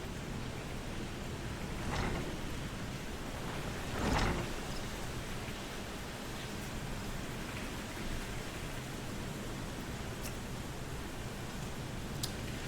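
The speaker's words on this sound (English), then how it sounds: "Rain's really coming down now." Heavy rain in the video game Final Fantasy XIV pours as a continuous, even hiss, with a few brief louder gusts or splashes and no voices.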